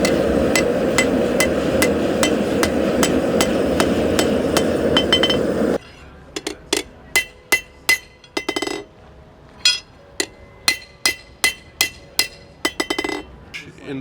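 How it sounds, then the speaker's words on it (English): A blacksmith hammers steel to forge a knife outdoors beside a propane forge, with the forge roaring steadily before sharp, ringing metallic hammer blows strike in irregular bursts, loud and close. "I'm excited to see him hammer some steel."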